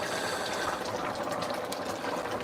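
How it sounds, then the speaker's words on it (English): A pot of chili at a rolling boil, giving a loud, dense and continuous bubbling and churning close by with no voices. "there's the rolling boil"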